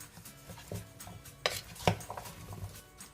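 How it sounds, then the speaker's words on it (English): Seasoned vegetables being stirred in a slow cooker: quiet scrapes and a few sharp clinks of a utensil against the pot, spaced irregularly and heard up close. "Now we want to stir this very well and coat all the vegetables evenly"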